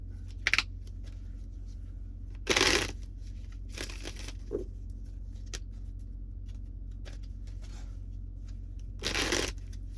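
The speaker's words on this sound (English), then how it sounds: "I just shuffled the cards" Tarot cards riffle and slap in a few short shuffling bursts separated by quiet pauses, close and soft against a low background hum.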